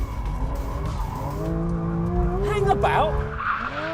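A Porsche sports car, either a 911 GT3 RS or a Cayman GT4 RS, slides on a race track with a steady engine drone and tires squealing and skidding, while someone speaks over the noise.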